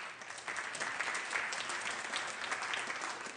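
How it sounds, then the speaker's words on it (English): Senate chamber applauding during a floor session, a steady, even patter of many hands clapping throughout, heard from a distance in a large room. "Give him a round of applause."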